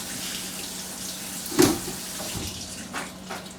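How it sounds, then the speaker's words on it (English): Beans rinsed under a kitchen sink tap, a steady low wash of running water with one sharper splash midway and a few softer splashes after, no talking. "so I just rinse them, and then I'll just keep them in the sink just so that the water can drain a bit"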